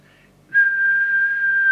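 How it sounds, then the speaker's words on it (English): A single sustained whistle on one steady pitch into a CB base station microphone, loud and close, held for over a second after a brief softer start. "Just give it the quick whistle test."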